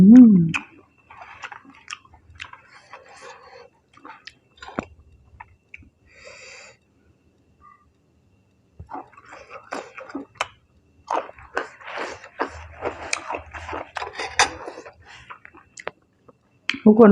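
Close, crisp chewing of Thai rice noodle salad with crispy pork tail, steady crunchy bites and mouth sounds through most of the stretch, with a few quiet gaps and a short voice at the start.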